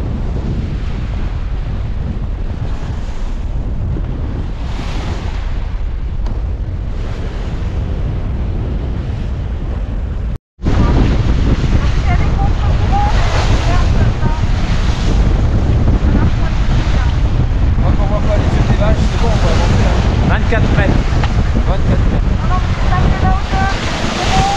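Strong wind of around 25 knots roars over the microphone aboard a sailboat during the Tour de Belle Île race in persistent rain, with waves washing against the hull. A brief dropout comes midway, after which the wind noise grows louder and denser.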